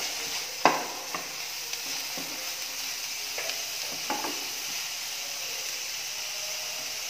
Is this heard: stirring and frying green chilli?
yes